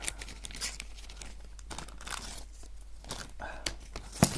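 Plastic packaging around spatulas and tools from a Jenter queen-rearing kit is torn and crinkled open up close, a series of quiet, sharp tearing and crackling bursts separated by brief pauses, no talk.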